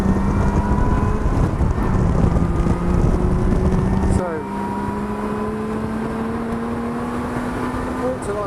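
A Lotus 3-Eleven engine drones loudly while driving on a track, a rising tone through the gears with an upshift midway, heard from the cockpit amid heavy wind buffeting.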